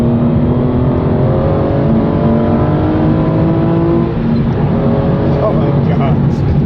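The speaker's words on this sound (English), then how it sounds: "Let's give you a little bit of the before acceleration on this Aston" An Aston Martin V12 Vantage pulls hard in third gear, its engine note climbing steadily and loudly from close by inside the car, with a voice talking over the roar.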